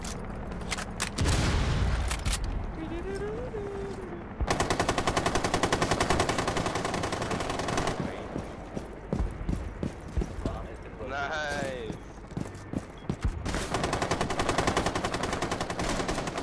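Rapid automatic gunfire from a Rainbow Six firefight, heavy dense bursts that stop and restart, with a player's voice talking over the shooting.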